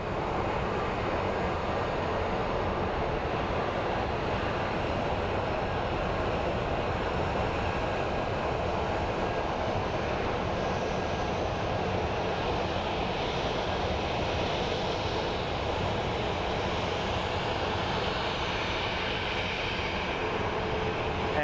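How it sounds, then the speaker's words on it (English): A CRJ regional jet lands at Phoenix Sky Harbor International Airport, a loud, continuous broadband jet roar that holds steady throughout with no pauses. "up next we have a CRJ that is landing"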